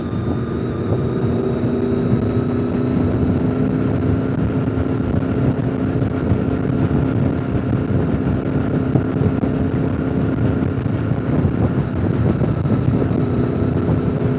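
A Lamborghini Huracan's steady engine and exhaust drone hums continuously, even and moderately loud, with no voices.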